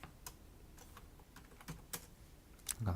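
Quiet computer keyboard typing at a desk: a handful of soft, scattered key clicks and taps, a couple slightly sharper, with no voices heard.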